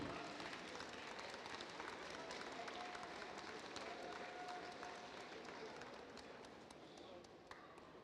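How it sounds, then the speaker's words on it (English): Audience applause at a live robotics competition, the Robochallenge 2025 freestyle showcase: a wash of clapping and crowd noise, moderately distant, with a voice talking over it and occasional taps. "Let's hear a round of applause for Freestyle Showcase University."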